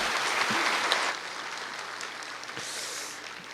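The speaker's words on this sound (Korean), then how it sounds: "이길승 집사님과 개인 플레이에게 다시 한번 큰 박수 부탁드리겠습니다" A church congregation applauds after a concert worship service, steady broadband clapping that fills the room then eases and thins toward the end.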